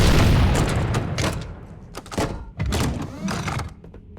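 Rocket launcher blasts in Halo CE, several heavy booming explosions in quick succession with thudding impacts and decaying rumble, loud and close with no talking.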